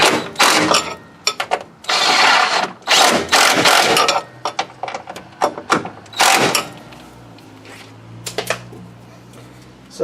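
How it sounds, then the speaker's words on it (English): Three rear suspension bolts inside the trunk of a 2001 Lexus IS 300 being tightened with a ratchet during a Tein Street Basis Z coilover install: loud, close bursts of rapid clicking separated by short pauses. "we can go to the trunk and tighten up the 3 bolts up there"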